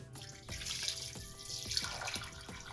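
Water runs steadily from a tap into a vessel of soaked chana dal, a continuous close splashing pour with light irregular plops and no voices.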